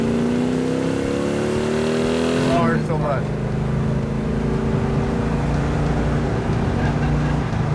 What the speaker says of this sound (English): That is one snarler of an engine.